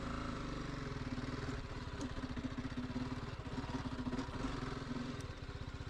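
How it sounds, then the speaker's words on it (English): BMW G 310 GS single-cylinder motorcycle engine pulling steadily as the clutch is let out and throttle applied on a steep climb, a close, continuous rhythmic thrum that holds level throughout with no voices. "I'm going to use rear brake, start letting out the clutch, and giving it some throttle"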